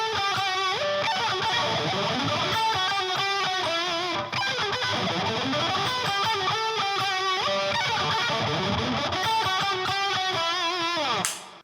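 A motif on electric guitar, fast busy phrases with lightly overdriven tone and sliding, bending lines, played steadily and fairly quietly with no talking, ending abruptly.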